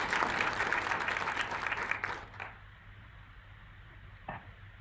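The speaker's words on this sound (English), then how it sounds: "Can we give a round of applause and welcome to present to us currently Professor Rohina Joshi" An audience at a university centre launch gives a round of applause for a speaker. The dense clapping lasts about two and a half seconds, then cuts off into near silence with a faint knock near the end.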